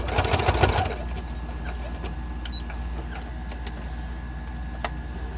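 Domestic sewing machine running a brief burst of back stitches along the edge of a pleated fabric face mask, a short loud whir at the start that settles into a quiet hum and faint clicks, with no talking.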